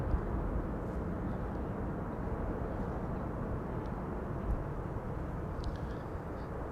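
Orange Pride airliner arriving on runway 06 at Amsterdam Schiphol on a sunny morning, a steady distant rumbling roar that holds evenly for several seconds.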